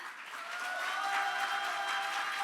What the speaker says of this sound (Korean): 박수와 함께 스피치 시작하겠습니다